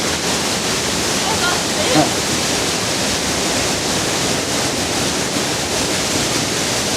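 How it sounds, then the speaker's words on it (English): Roaring waterfall heard from directly beneath the falls, a dense, steady wash of crashing water that fills the scene loudly and without pause. "Isn't it crazy to think we're underneath the falls?"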